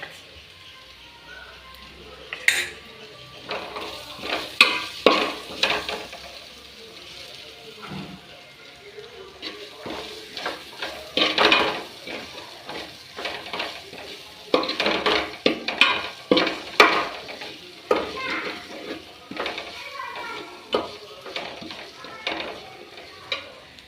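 Onions sauté in a pan for a chicken parts fry while a spoon stirs them, giving a steady soft sizzle broken by repeated scraping and clinking strokes against the metal pan.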